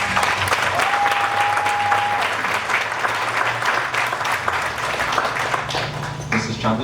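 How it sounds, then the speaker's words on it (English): A full round of applause from the crowd at a high school graduation ceremony, loud, dense and continuous, with a faint steady tone passing briefly early on and a shift in the noise near the end. "So we can give them a round of applause, please."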